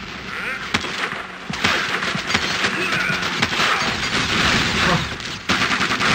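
Rapid bursts of gunfire from the Battlefield Heroes video game fill the scene, with dense overlapping shots and sharp impacts running throughout at steady high loudness.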